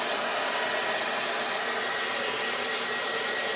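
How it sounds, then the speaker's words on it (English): A handheld blow dryer blasts air over wet paint on a bird nest artwork, a loud, steady, close whooshing roar that holds level throughout with no talking. "or you can grab a blow dryer."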